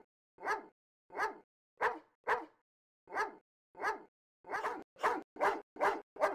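A dog barks in the Phantasmagoria video game, a string of about eleven sharp, evenly spaced barks that come faster and louder toward the end, with no talk over them.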